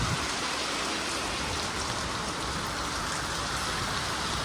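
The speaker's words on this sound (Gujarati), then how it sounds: "થોડો થોડો વરસાદ આવે." Light rain falls steadily, a dense even hiss of drops that stays close and constant throughout with no voices.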